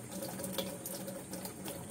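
A weak, low-pressure water supply trickles steadily into a Whirlpool LSP780GP washing machine during filling, giving a continuous soft hiss and patter with no talk.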